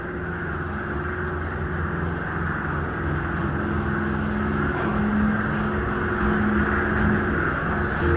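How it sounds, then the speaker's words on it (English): Machinery of a Montgomery Kone inclined funicular elevator in its machine room gives a loud, steady mechanical drone with a low hum and a few sustained tones, continuous and close. "See the machine room."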